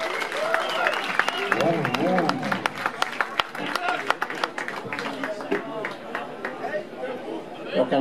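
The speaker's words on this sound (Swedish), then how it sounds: "En stor applåd." Audience applause breaks out at a live music show at Sticky Fingers for a performer taking the stage, sharp individual claps and cheers mixed with chatter and voices throughout.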